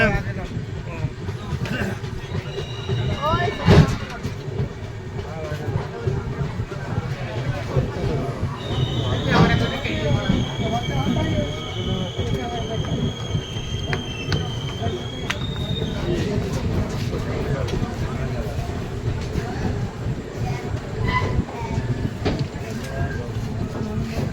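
The Kamrup Express rolls into Katwa Junction at night, a continuous rumble of wheels on track with sustained high brake or wheel squeals and occasional clanks, while people talk nearby.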